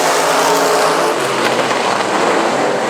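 Race cars roaring around South Texas Speedway during a heat race, a loud and steady wall of engine noise from several cars at full throttle, with no break.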